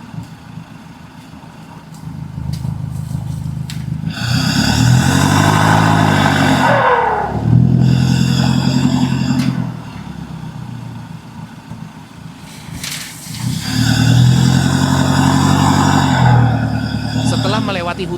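Yellow and orange trucks push along a muddy forest road, their engines swelling in long revving bursts that rise and fall in waves, with a narrator talking over them.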